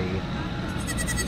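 A two-day-old baby goat bleats at a petting area, a short wavering call under a person's nearby talk.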